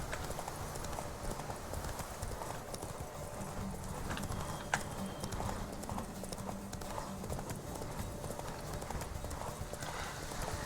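Horse hooves galloping in a steady, continuous clip-clop during a horse race in The Witcher 3 Wild Hunt, fairly close and sustained throughout, with game ambience behind it.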